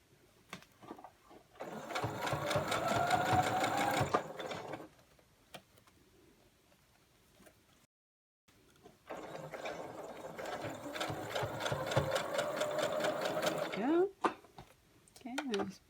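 Sewing machine stitching a cloth face mask, two bursts of rapid, even mechanical whirring, each a few seconds long, separated by a pause, close and moderately loud, with someone talking around them.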